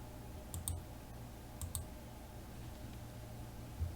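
Mouse buttons clicking faintly on a desk while editing in embroidery software, a few quick paired clicks spaced over a few seconds against quiet room hiss.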